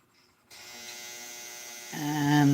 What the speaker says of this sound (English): And there goes my dryer again,